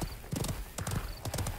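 Galloping hooves of a flaming blue horse in the online battle royale game Realm Royale, sounding as two rapid clip-clop bursts close up, with faint game ambience between them.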